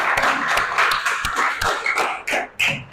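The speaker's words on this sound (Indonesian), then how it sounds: "Tepuk tangan untuk kelompok C." A crowd applauding, dense overlapping claps for a few seconds with slight dips in intensity, close and fairly loud.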